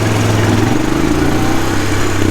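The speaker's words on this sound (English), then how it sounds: "We're gonna air up the tire on the big air compressor here." A big air compressor runs steadily beside a farm pickup, giving a loud, constant low mechanical drone with a throbbing pulse and no talk.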